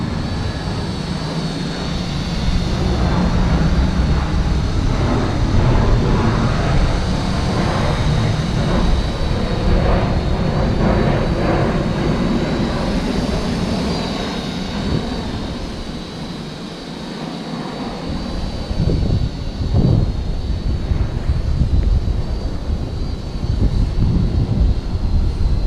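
A small Eachine E55 wifi FPV drone hovers and drifts on altitude hold in gusty outdoor wind, its steady high-pitched motor whine running continuously throughout, with wind buffeting rumbling underneath and surging slightly as it pushes the craft around.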